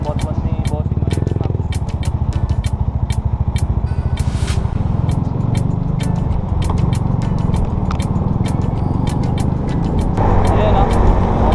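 A Mio Soul i 115cc scooter rides along an open highway with a steady engine drone and rushing wind. Someone talks over it, and sharp clicks or taps recur throughout.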